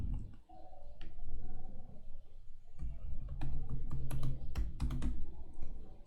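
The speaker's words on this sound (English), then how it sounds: "So I'm going to type in my credentials." Quiet, close keystrokes on a computer keyboard entering login credentials, a short burst of taps, a pause, then a faster run of sharper clicks, with no talking.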